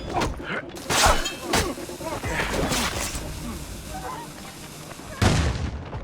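A grenade goes off in Assassin's Creed Rogue amid sharp, cracking gunfire and shattering bursts. Several loud reports arrive close together, a lull follows, then one last heavy blast, with shouting voices woven through the din.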